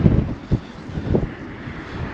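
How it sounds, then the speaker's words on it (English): Strong wind buffets the microphone on an estuary shore at low tide in Southend, UK, with gusty low rumbling bursts and steady blustery noise throughout. "you can see in the thin old hair that I've got left that it's pretty friggin' windy"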